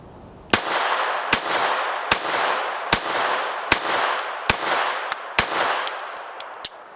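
A Browning Model 1910 pistol in .32 ACP fires seven sharp, loud gunshots in a steady series, each crack spaced roughly a second apart with short echoing tails.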